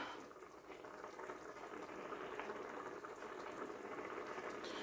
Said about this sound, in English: just bringing the pot to a boil